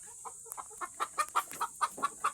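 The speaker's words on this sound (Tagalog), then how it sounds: "Ang aming manok, nangingitlog. Ayan, katapos lang mangitlog." A hen clucks just after laying an egg, a quick, rising series of short calls, about a dozen in all, fairly faint and close, with no voices.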